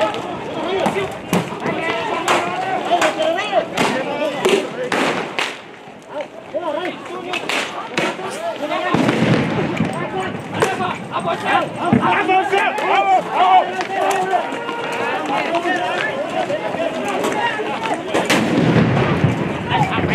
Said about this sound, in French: Les forces de l'ordre ont alors tiré des grenades lacrymogènes pour disperser la foule.